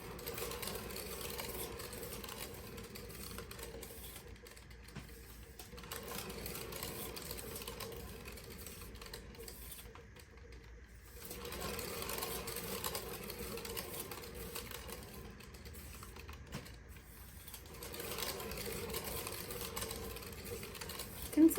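A paint spinner turns a fluid-art floral painting, producing a faint, steady mechanical whir that runs throughout, while a person talks quietly over it.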